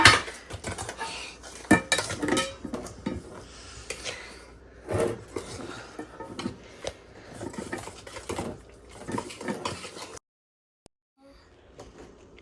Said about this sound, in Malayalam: ഇനി നീ മിക്സ് ചെയ് നല്ലോണം മിക്സ് ചെയ്